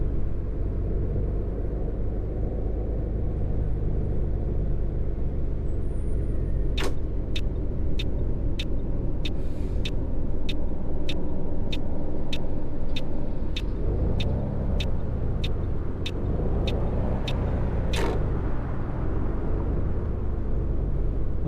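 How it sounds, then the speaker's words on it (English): A coach bus engine in Fernbus Simulator rumbles at a low, steady drone. A run of regular ticking clicks, like a turn signal, sits over it, with a sharp hiss at the start and end and a swelling growl toward the end. "I do hope these bus sounds are permanent"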